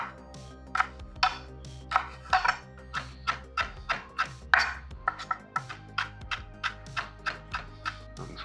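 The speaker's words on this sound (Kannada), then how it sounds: "ಈ ತರ ಚಿಕ್ಕದಾಗಿ ಕಟ್ ಮಾಡ್ಕೊಂಬಿಡಿ" Green chillies being chopped into small pieces on a cutting board, a run of sharp, evenly spaced knife taps, close and clear with no talking.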